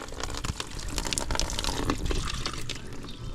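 Water gushing and squirting steadily from the oil drain of a BMW M3, a continuous splashing rush close by with no voices.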